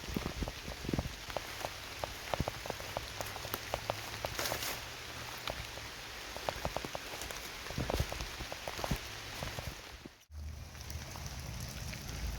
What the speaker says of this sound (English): Rain's stopping a little bit now